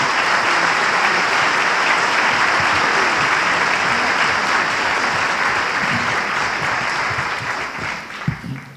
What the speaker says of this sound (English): I'd like you to join me in just applauding these people who put their name forward